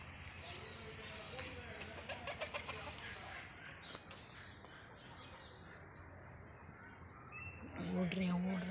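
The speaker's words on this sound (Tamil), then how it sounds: "நாட்டுக்கோழி மேயிறத பார்க்கலாம் வாங்க" Country native chickens cluck and call while grazing outdoors, a busy chorus of fowl sounds at moderate distance, with a louder cluck rising at the end.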